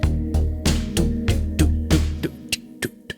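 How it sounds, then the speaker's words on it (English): A looping series of water drips, about nine evenly spaced plinks, each with a short hollow decay, steady in rhythm and fairly close. "some sort of like water effect, like water dripping"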